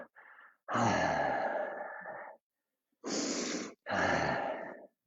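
Slow, deep exhaled breaths during a balance exercise on tiptoes, a long drawn-out breath followed by two shorter, breathy exhales, close and clear with silence between.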